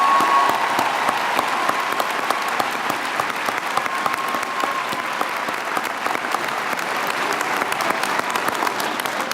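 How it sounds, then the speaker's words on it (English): A commencement crowd applauds graduates of an art and design college, a long, full, unbroken roar of many clapping hands in a large hall. "You have one more round of applause coming your way."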